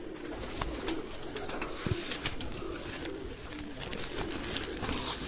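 Pigeons kept for sale in Sialkot coo and shuffle while feed is scattered among them, with soft wing flutters and scattered clicks over a steady murmur of calls.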